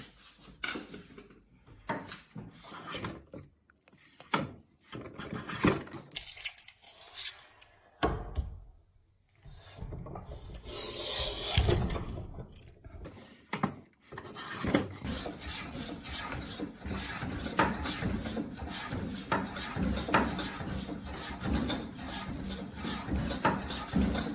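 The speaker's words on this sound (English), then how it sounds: "So now I put the cane onto the bed and it is time to gouge the cane." A piece of cane is gouged on a gouging bed, giving repeated close rasping strokes with a woody scrape, broken by short pauses and a few knocks, then settling into continuous rhythmic scraping.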